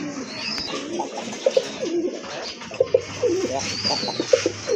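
Fancy pigeons on a farm cooing repeatedly, several soft rolling coos close by in uneven bursts over a faint background of other birds chirping.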